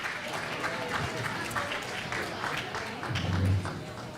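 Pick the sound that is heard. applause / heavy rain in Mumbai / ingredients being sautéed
applause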